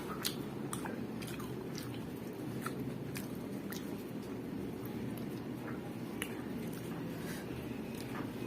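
Close-up mukbang chewing of crunchy boiled eggplant, okra and pechay, an Ilocano dish: soft wet bites and crunches repeating steadily over a faint constant background hum, no talking.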